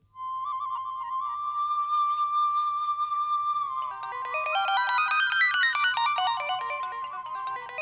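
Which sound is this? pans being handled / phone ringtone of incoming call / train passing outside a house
phone ringtone of incoming call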